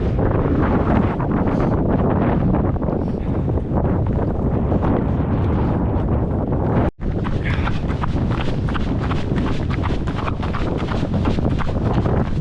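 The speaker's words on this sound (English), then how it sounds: "Wind chill's really getting up now." Strong December wind blasts across the exposed Helvellyn mountain ridge in the Lake District, roaring steadily and loudly against the microphone throughout, with just one brief dropout.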